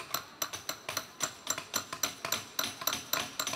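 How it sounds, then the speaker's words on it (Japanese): Hammer strikes on copper plate against a shaping tool during traditional onigawara-style metalwork, landing in a steady, fairly even rhythm of about fifteen sharp, bright metallic taps, close and alone with no talk. "ハンマーがピタッと合わさって銅板が"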